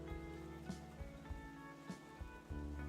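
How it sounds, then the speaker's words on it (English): Rain in the game Wax Heads, heard as a faint, steady patter under a tonal music bed, with a few soft thumps spaced through it. "Oh, it's a rainy day today."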